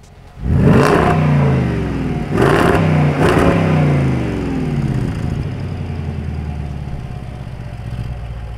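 A Jaguar F-Pace SVR engine roars to life and revs hard twice, deep exhaust rumble rising and falling, then settling into a steady idle burble.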